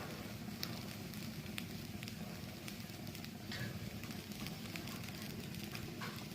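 Flattened rice (chira) frying in a pan for chira pulao gives off a steady, even sizzling hiss, soft and constant throughout with faint scattered crackles.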